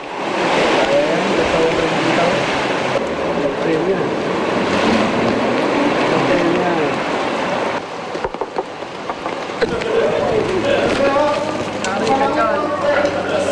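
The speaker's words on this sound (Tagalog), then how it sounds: "Di tulad ng driver ng SUV na ito na marahil ay nag-akalang malulusutan ng baha." An SUV pushes through deep flood water on a Quezon City street in heavy rain, a continuous rushing, sloshing wash of water with rain noise, while a narrator speaks over it throughout.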